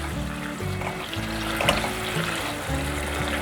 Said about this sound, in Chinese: 最后放入小黄瓜，小黄瓜拌炒一下